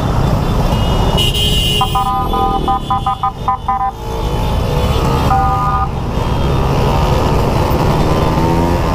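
Car horns honk repeatedly in short bursts at a long red light over loud, steady traffic and engine rumble, with a second round of honks a few seconds later.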